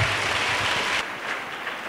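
Church audience at a 2019 personal and family renewal gathering applauds for Jesus Christ: dense, steady clapping fills the room, loudest for the first second before easing into a slightly thinner, continuing ovation.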